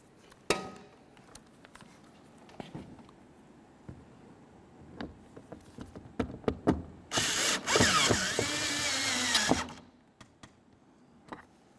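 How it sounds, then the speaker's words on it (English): A Phillips head screw is driven into a 2004–2006 Scion xB door window regulator, with scattered clicks and ratchet-like ticks, then a few seconds of loud whirring from a power driver, close and otherwise quiet. "continue by putting in your Phillips head screw"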